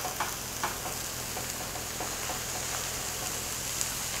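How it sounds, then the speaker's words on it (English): Cauliflower sizzles in a hot roasting pan, a steady close crackling hiss with faint scattered pops running throughout, no voices over it. "Do you hear that sizzling?"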